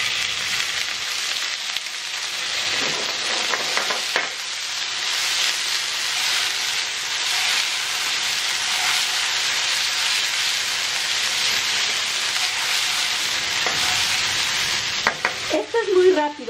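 Already-cooked shrimp with garlic hit a hot pan and fry with a loud, steady sizzle that hisses throughout, broken by a few scraping stirs and clatters toward the end.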